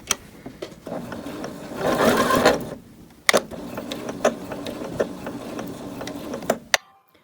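A domestic sewing machine stitches in a steady whirring run, pauses as the needle drops to pivot at a corner, then resumes with lighter clicks and short bursts before stopping.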